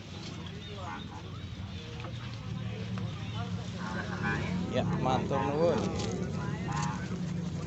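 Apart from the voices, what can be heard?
birds at a bird market, geese honking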